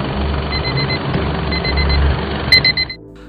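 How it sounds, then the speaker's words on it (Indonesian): An electronic alarm beeps in quick repeated bursts of rapid tones, loud and close, with a brief clatter near the end. "akibat suara alarm yang cukup mengganggu, maka Ana segera mencari alarm tersebut."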